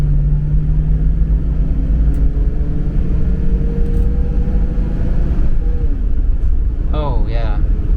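A restored Mercedes-Benz 280SEL 3.5 V8 cruises along with a loud, steady low engine drone and road rumble heard from inside the cabin, and a voice talks over it.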